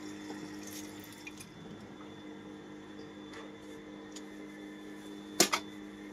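Tap water runs at a sink as food is washed at home, a faint, steady stream with a few soft splashes and one short clatter near the end.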